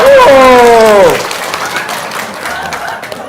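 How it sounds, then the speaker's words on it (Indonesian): A stand-up comedy audience breaks into applause after a voice speaks at the start, the clapping continuing moderately loud and steady to the end. "Tepuk tangan dong."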